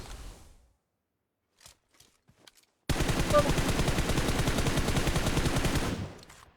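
Video game gunfire: a few faint clicks and short bursts, then a sustained loud rapid-fire volley lasting about three seconds before cutting off, with no voices.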